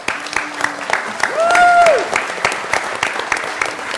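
Applause for Mark Shannon at a PyCon UK 2015 panel discussion, a steady patter of clapping from a conference audience, while people talk and a voice rises briefly over it in the middle.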